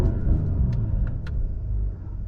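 A 2021 Mercedes-AMG GLE 53 4MATIC+ SUV engine in sand drive mode gives a steady, close low rumble that holds evenly, then eases slightly near the end.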